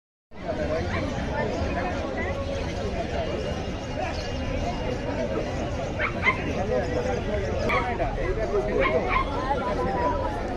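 Dogs bark and yip at the Galiff Street Sunday dog market in Kolkata, with repeated sharp barks and whimpers over a constant crowd babble of chatter, fairly close and busy throughout.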